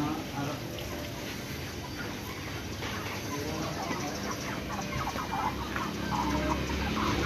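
Chickens cluck and squawk continuously at a chicken seller's stall amid a noisy, crowded background, fairly close and busy throughout.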